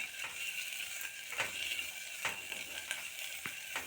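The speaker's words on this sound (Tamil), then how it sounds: "இது வந்து அந்த வெண்ணெயில் நல்லா வதங்கணும்" Vegetables sautéing in butter for pumpkin soup, a continuous sizzle broken by several sharp scraping clicks of a spoon against the pan.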